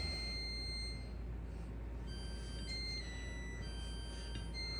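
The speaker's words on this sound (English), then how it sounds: "You can hear the alarm going off in the back." A kitchen oven's alarm beeps faintly in the background when it is up to temperature, giving thin, high, intermittent tones over a steady low room hum.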